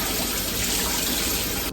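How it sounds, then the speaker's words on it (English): Aronia berries are rinsed in clear water, a steady, loud rush and splash that runs without a break and then cuts off sharply at the end. "So I'm rinsing these in the clear water"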